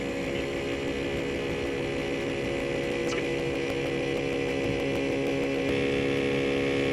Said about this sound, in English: the first compressor will be the ARB single